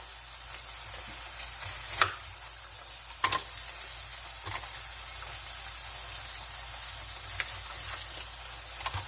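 Chunks of chuck roast sear in a hot pan with a steady broad sizzle throughout, punctuated by a few sharper pops and spits as the meat cooks.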